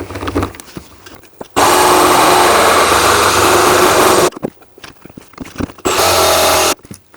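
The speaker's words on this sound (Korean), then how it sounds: "우선 1차적으로 직소로 잘라 볼게요." Jigsaw slicing through a vinyl flooring sheet inside a Renault Master camper van conversion, a loud sustained buzzing cut lasting about three seconds, then a quieter pause with handling clatter, followed by a second short burst of cutting.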